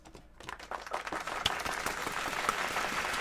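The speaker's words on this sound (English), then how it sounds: "You all get the clap." Scattered clapping from a few people on a weight-loss support group call, starting sparse and growing into a thin, uneven patter of hand claps at moderate distance.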